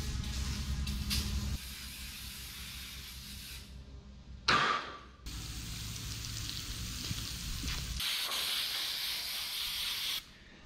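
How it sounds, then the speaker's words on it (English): An engine degreaser aerosol can sprays in long continuous hissing bursts in a shop, with a short sharper burst midway and brief pauses between. "Gonna shake up some of our engine degreaser. We're gonna spray it and let it do some degreasing."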